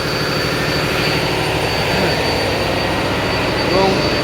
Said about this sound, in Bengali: এখন যারা শব্দ পাচ্ছেন বা চলতেছে, এটা হচ্ছে জেনারেটর যেটাকে বলে